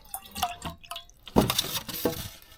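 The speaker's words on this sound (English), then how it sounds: "So I'm going to add a little bit more water to this." Water poured into a homemade wine batch in the final stages, splashing and trickling in a short burst with drips before and after, fairly close and moderately loud.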